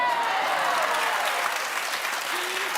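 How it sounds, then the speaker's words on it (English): Studio audience applauding on a daytime talk show, a continuous, even roar of clapping mixed with crowd noise and faint tonal sounds, sustained at steady level. "keep clapping"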